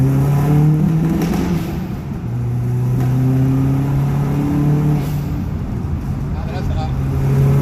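A 20-year-old Japanese car, a Subaru Impreza, driving through a tunnel, its engine droning and shifting pitch as it revs under a continuous loud roar of echoing road noise, with someone talking over it.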